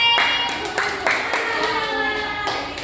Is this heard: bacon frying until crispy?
no